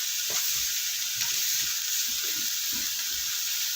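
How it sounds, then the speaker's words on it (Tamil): Onions, dried red chillies, mustard seeds and cumin sauté in hot oil for a drumstick-leaf dish, giving a steady close sizzle with soft stirring knocks throughout. "முருங்கைக்கீரைக்கு எண்ணெய் ஊற்றிட்டு கடுகு ஜீரகம் போட்டுட்டு வெங்காயமும் வரமிளகாயும் போட்டு"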